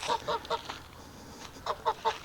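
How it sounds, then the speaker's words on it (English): Farm geese honk in quick repeated calls, a cluster of honks at the start and another toward the end with a quieter gap between, moderately near. "Is it time for the geese?"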